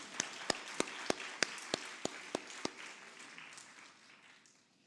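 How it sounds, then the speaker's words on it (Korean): A church congregation gathered for a young adults' Sunday service applauds a newly married couple, a dense wash of clapping with several sharp claps standing out, then gradually thinning and fading to quiet. "박수 한번 쳐줄까요?"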